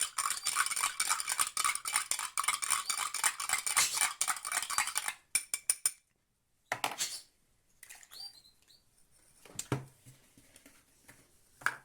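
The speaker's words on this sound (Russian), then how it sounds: "Тоже чуть-чуть перемешаем, потому что там на дне остался сахар." Rapid metallic clinking of a spoon stirring batter in a bowl, steady and busy for several seconds, then a few scattered scrapes and clinks with quieter pauses.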